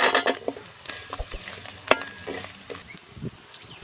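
Shallots are added to a sizzling masala of spice paste, dried red chillies and curry leaves, frying for village-style beer chicken; a close, crackling sizzle with sharp clatters and scrapes of a ladle stirring in the pan, no voices.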